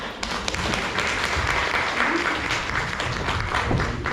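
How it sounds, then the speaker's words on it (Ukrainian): A crowd at a meeting with novelist Natalia Tysovska applauds steadily for several seconds, dense clapping that holds at a constant level from start to finish. "ваші оплески"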